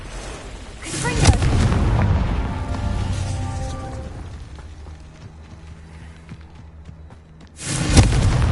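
Confringo explosion spell in a video game, with a heavy booming blast that rumbles and decays over several seconds, followed by a second loud blast near the end.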